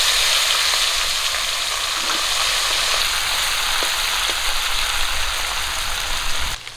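Puti fish frying in hot oil in a wok, a steady, dense sizzle that fills the whole stretch at an even loudness and stops abruptly near the end.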